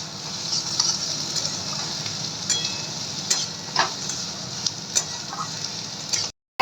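Capsicum fries in a hot pan while being stirred, a continuous close sizzle broken by scattered clicks of the utensil against the pan, no voices, cutting off abruptly near the end.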